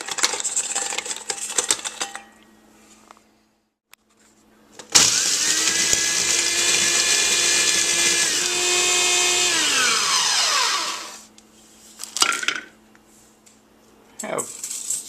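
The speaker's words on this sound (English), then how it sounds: "After you've cleaned 15 cookies and have 30 cookie halves, then it's time to grind them." Cookie halves are ground into fine crumbs in a food processor, a loud whirring grind lasting several seconds that slows and winds down at the end, with rattling handling noises before and after.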